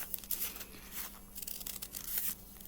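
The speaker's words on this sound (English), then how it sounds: "You're cutting through many different layers, and it's much easier to cut using that back part of the scissors." Scissors snip through many stacked layers of material in quick, rasping strokes, each cut a soft crunching tear repeated in an uneven rhythm close by.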